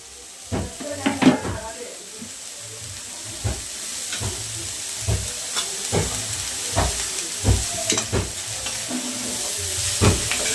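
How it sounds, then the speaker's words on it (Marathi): Finely shredded cabbage frying in oil in a pan, with a steady soft sizzle under repeated sharp stirring clatters of a utensil against the pot, close by. "व्यवस्थित तेलात भाजून घ्यायचं."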